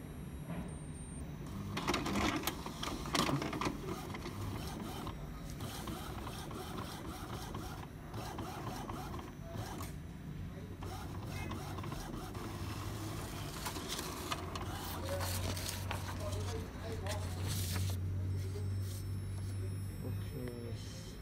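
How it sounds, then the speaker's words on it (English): An Epson M200 inkjet printer printing a nozzle check gives off quiet mechanical whirring, clicking and ratcheting that carries on steadily, with a low motor hum building near the end. "Yes, now the printer will print."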